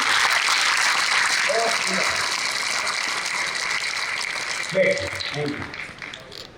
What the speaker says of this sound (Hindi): ताली बजा दो इनके